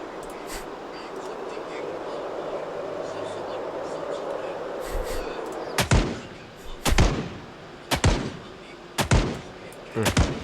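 Gunfire in the video game Project Zomboid: after a stretch of quiet background and low voices, four or five loud, sharp shots ring out about a second apart, each with a short decaying tail.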